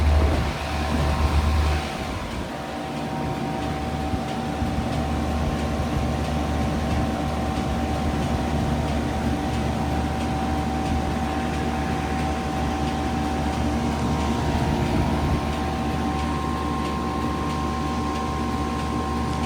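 A 2016 Lasko Power Plus heat pump runs steadily before its defrost cycle, giving a continuous mechanical hum and airy whir with a low drone that stays constant and fairly loud throughout.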